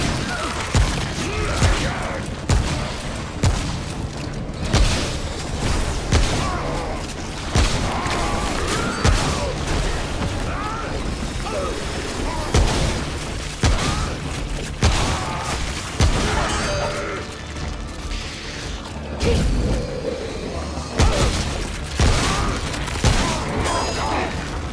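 Shotgun blasts in a Remnant: From the Ashes boss fight, heard as loud, repeated booming shots with crashes and mechanical clatter, roughly every second or two, over a dense battle din.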